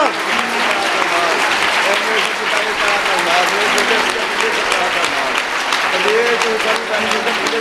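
A church congregation claps steadily in worship, dense continuous applause from many hands filling the room, with voices mixed in beneath the clapping.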